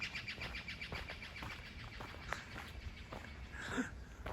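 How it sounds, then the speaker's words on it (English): Birds chirping in the morning at Moraine Lake near Lake Louise in Banff, Canada, with faint scattered tweets and short calls over quiet outdoor ambience, plus a few soft footsteps. "Birds saying good morning."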